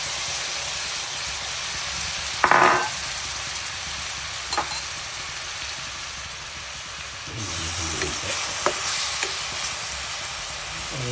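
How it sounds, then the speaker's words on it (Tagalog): Garlic with red and white onions sautéing in a pan, a low steady sizzle under a broad hiss, with a couple of sharp utensil knocks and a stirring burst near the middle. "Yan po ay bawang, sibuyas na pula at sibuyas na puti."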